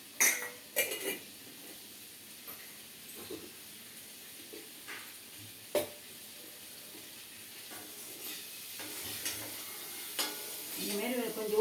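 Baby potatoes coated in spice powder sautéing in a pan, with a steady low sizzle and scattered scraping stirs and clinks of a spoon, close and fairly quiet, no talking.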